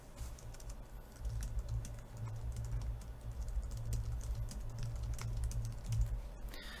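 Fast typing on a computer keyboard while programming a VEX V5 robot, with close, quiet key clicks in an irregular rhythm over a low room hum.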